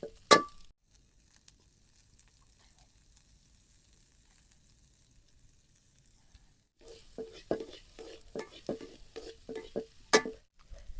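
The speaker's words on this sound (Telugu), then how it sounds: "ఇవన్నీ ఇలా వేయించాలి లైట్గా" Carrots, capsicum and other vegetables stir-fried lightly in oil for street-style chicken noodles: a single clink, a long quiet stretch, then a run of rhythmic scraping stirs and clinks with soft sizzling close by.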